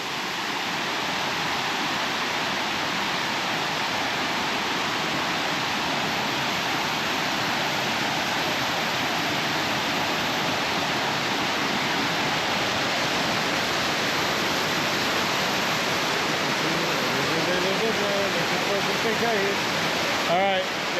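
A river waterfall roars in a steady, loud, broadband rush that fills the whole stretch, close by and unbroken, with a brief voice near the end.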